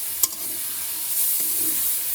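Leafy greens (shak) fry in a pan with a steady bright sizzle, a sharp clink of the utensil near the start and soft stirring scrapes as the hissing swells slightly.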